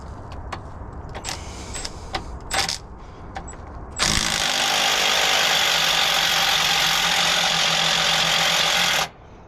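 A heavy-duty technician runs an impact gun on the center crank pulley bolts. A few sharp clicks come first, then a loud, steady mechanical whirring runs for about five seconds and cuts off abruptly.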